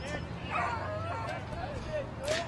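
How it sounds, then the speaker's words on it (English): An unhappy dog somewhere near a high school baseball game gives short whining yips and whimpers over a low crowd murmur, with an announcer's voice also present. "We have a dog here somewhere that's not happy."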